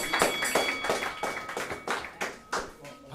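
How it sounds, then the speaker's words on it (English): An audience at a roast battle claps in a steady run of sharp, distinct hand claps that pulse at a regular rhythm, moderately loud and close, with no talking over it. "So, y'all give him a round of applause."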